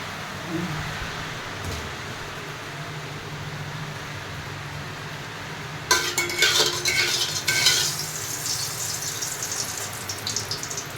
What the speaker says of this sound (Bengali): আমি বাটনা বাটা ভেজে